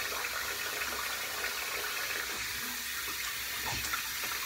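Running tap water splashing into a sink while a face is wetted before a wet shave, a steady close hiss of flowing water without speech.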